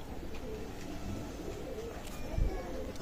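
Soft coos from bloodline pigeons in a loft rise and fall over low background hum, faint and nearby, with a brief thump near the end.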